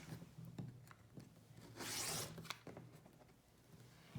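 A rotary cutter trims quilt fabric along a ruler, a brief rasping rub standing out from softer scattered scrapes and taps, close and quiet.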